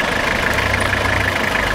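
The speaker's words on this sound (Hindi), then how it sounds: "इंजन की आप साउंड चेक करें" A 1992 Toyota Prado LJ78 with a 2L turbo diesel engine idles close by, a steady low rumble with a faint knocking rhythm and no talk over it.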